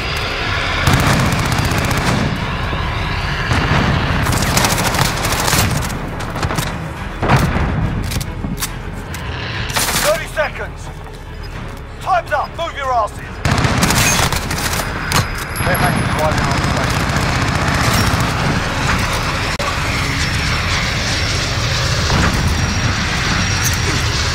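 Gunfire and explosions crackle through a Modern Warfare match, dense bursts of shots and booms filling the soundscape with a few brief lulls, loud and continuous.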